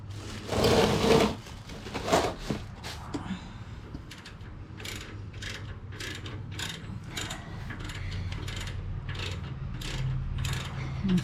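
A ratchet fitted with a 5/8 socket clicks in quick repeated bursts while working loose the oil drain plug on a Harley Davidson motorcycle, preceded by a few louder clunks of handling, close by.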